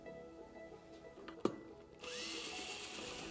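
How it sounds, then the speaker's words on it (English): A Torx 20 screwdriver backs out cover screws on an outdoor IP66 drive unit, quiet scraping with one sharp click, then a steady brighter whir from a power driver near the end. "Using a Torx 20 screwdriver, remove the 4 cover screws and earth tab screw."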